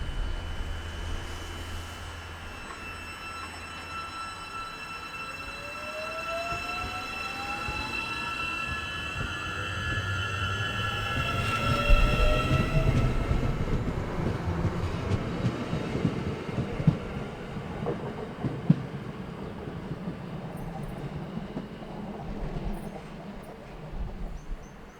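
Matangi electric multiple unit train at a Wellington suburban station, a steady rolling rumble with rising motor whine and wheel squeal as the train moves off, no voices.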